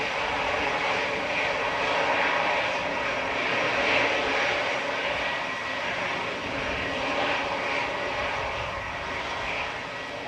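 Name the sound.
EasyJet airliner taxiing at Manchester Airport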